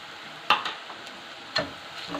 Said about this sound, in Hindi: अब इसमें हमने प्याज डाल के इसको ब्राउन करेंगे।